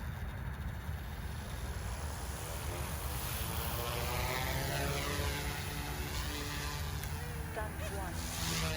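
An OMPHOBBY M2 RC helicopter with a double barrel tail motor in flight, its rotors giving a steady, loud, buzzing whine that shifts slightly in pitch as it manoeuvres, continuous throughout.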